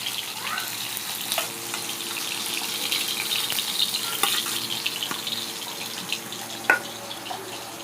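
Small carp-like fish sizzle and crackle as they fry in hot oil in a pan, a steady soft hiss with occasional sharper pops, fairly quiet and close.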